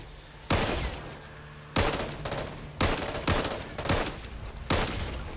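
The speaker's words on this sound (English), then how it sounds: "Let's try out this pistol." Pistol shots in the co-op zombie shooter Back 4 Blood, five loud, sharp single cracks spaced roughly a second apart, each trailing off into a ringing tail over steady background game noise.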